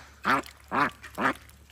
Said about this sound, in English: Yes, I hear you, Rebel Duck.